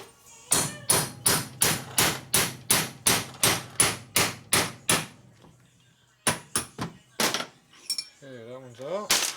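Hammer knocking valve guides out of a 1981 Harley-Davidson XL Sportster 1000cc ironhead cylinder head: a dozen sharp metallic blows in steady rhythm, a pause, then a few more irregular strikes and a brief squeal.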